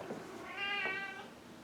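A cat gives a single drawn-out meow that rises and falls across the middle of the clip, fairly faint, against a quiet background with no talking.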